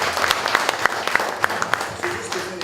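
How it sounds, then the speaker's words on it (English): Conference audience in Washington DC applauds a speaker, crisp individual claps popping out over a steady patter of hands, with some talking underneath as the clapping thins toward the end. "Let's give a round of applause for him."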